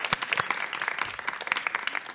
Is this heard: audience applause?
yes